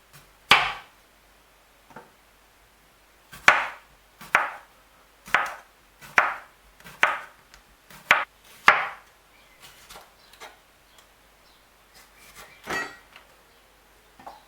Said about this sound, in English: the next thing we're going to be chopping is our cucumber